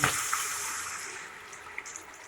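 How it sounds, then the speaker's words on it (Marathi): Water pours and splashes into a container up close, a short rushing stream that gradually thins, followed by a few light clinks. "हे बघा आता हे पाणी टाकते मी"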